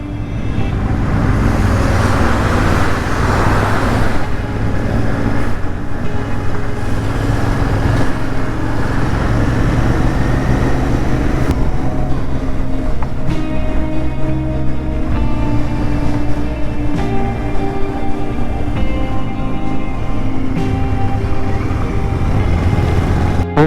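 A car climbing winding Himalayan mountain ghat roads on a drive toward Narkhanda, its engine and road rumble steady and close throughout, with no talking.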